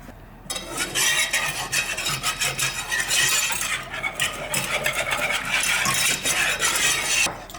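A utensil stirs soy milk into a béchamel sauce in a pan, a steady scraping and swishing that runs continuously and fairly close, with no talking.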